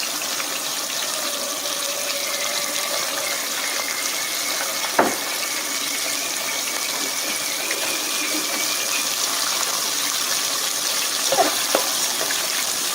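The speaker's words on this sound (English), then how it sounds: "Deep fry it in 3 runs." Lobster deep frying in hot oil in a restaurant kitchen, a steady, faint rushing bubble that runs throughout, broken by a sharp clack near the middle and a few knocks toward the end.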